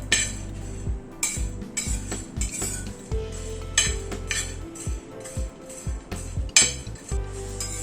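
Spices are stirred as they dry-roast on a very hot tawa, with a metal utensil clinking and scraping steadily against the pan in close, repeated strokes.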